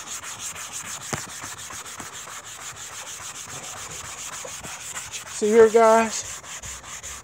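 The coarse side of a Dollar Tree sanding sponge rasps steadily against a surface in close, continuous back-and-forth strokes, and a voice briefly speaks near the end.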